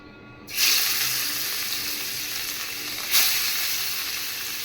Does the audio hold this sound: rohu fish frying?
yes